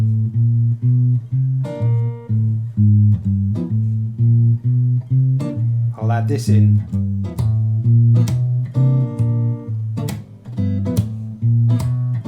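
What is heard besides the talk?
walking bass line on guitar with percussive hits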